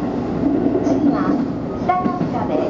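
A Tobu Skytree Line local train runs on rails between Kasukabe and Tobu-Dobutsu-Koen, its steady, loud rumble filling the cabin with a faint voice briefly over it.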